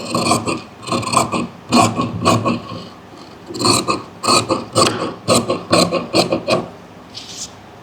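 Scissors snip through fabric while cutting a neckline with a half-inch seam margin, a close series of crisp rasping cuts in bursts with short pauses between.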